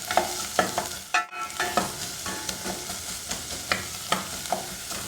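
Onions frying in a pan of hot olive oil, with a steady sizzle broken by repeated scraping stirs at a fairly even rhythm, close and clear, with no talking.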